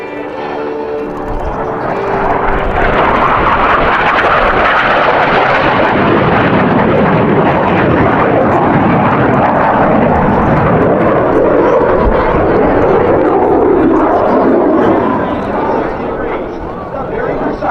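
Blue Angels jets flying a tight diamond-formation aileron roll at an air show, a loud, continuous roar of engines sustained throughout with no break, crowd-level and close, steady rumble rising slightly then holding.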